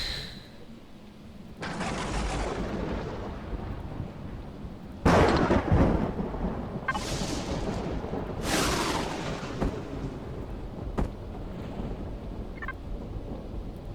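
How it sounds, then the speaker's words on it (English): A thunderstorm in the video game Empyrion rumbles and cracks in long, loud surges of thunder over a steady wash of rain-like noise, with several heavy peaks rolling in one after another. "It's a bit stormy out."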